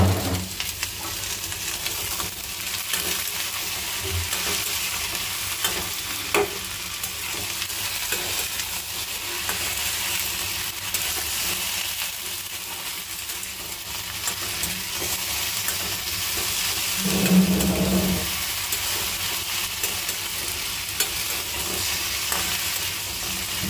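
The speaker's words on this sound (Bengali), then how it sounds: "এই যে আমার পেঁয়াজ মরিচ এখানে সব একসাথে ঢেলে দিলাম।" Onions and chilies fry in hot oil with a continuous loud hissing sizzle, steady throughout, broken by a few faint clinks of stirring.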